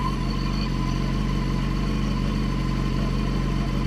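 BMW HP4 motorcycle fitted with an Akrapovic slip-on exhaust idles steadily and loudly, a continuous low engine drone with a constant throb and no variation in revs.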